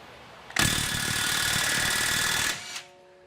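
A cordless electric impact wrench with a 21mm socket hammers loose a lug nut on a Tesla Model 3. It gives a loud, continuous rattling burst of about two seconds, then stops with a brief final blip.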